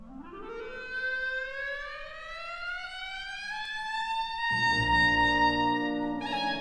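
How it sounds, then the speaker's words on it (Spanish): Clarinet playing alone, sliding in one long, smooth upward glide before settling into sustained higher notes, clear and fairly close. "Ese instrumento era un clarinete."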